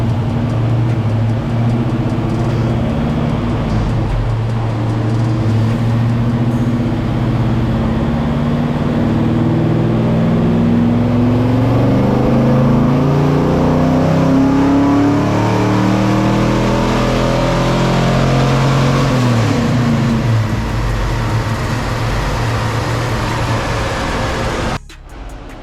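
Engine on a dyno with budget heads, cam and intake and a suspected misfire, held at full throttle in a long, loud, continuous pull whose harmonics sweep upward as revs climb, then cut off abruptly near the end.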